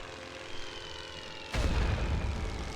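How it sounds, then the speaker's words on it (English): A World War I bomber's engine in a Western Front war game drones steadily at low volume, then swells suddenly into a louder, fuller roar as the aircraft passes close, with no talk over it. "this is a World War I bomber right here"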